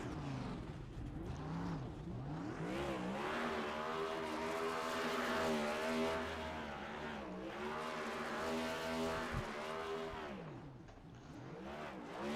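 Next Gen Cup Series stock cars at Kansas Speedway in a racing video game, engines roaring and revving steadily throughout with harmonic whine rising and falling, tires squealing through a burnout, loud and continuous.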